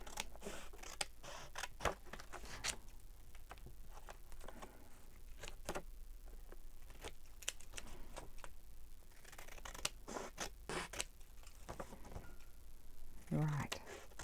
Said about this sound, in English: Or I might have to resort to a fussy cut.